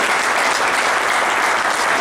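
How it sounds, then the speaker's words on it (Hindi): An audience at a workers' union wage agreement event applauding themselves, dense, loud, steady clapping from many hands filling the whole stretch without voices. "आप एक बार अपने लिए भी ताली बजाएं"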